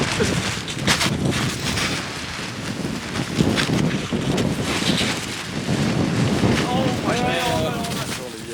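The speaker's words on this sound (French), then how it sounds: "s'il y a trop de vent." Strong wind gusting at a winter campsite in Québec's Mont Eudore-Fortin area, a loud continuous buffeting roar across the mic, with voices talking partly beneath it.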